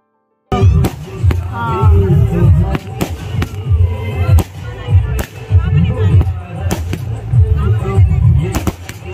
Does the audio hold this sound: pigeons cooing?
no